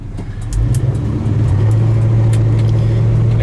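A 1972 Chevrolet Chevelle SS with a 350 V8 and automatic transmission accelerates hard from close by, the engine note climbing as the transmission kicks down, then holding a loud, steady drone.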